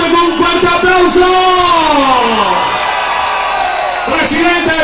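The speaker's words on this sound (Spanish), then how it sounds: "vamos a recibir a Gustavo Petro con un fuerte aplauso" Large outdoor crowd at a political rally for Gustavo Petro cheering and shouting loudly and continuously, with a long sustained voiced yell sliding downward, then another surge of shouting at the end.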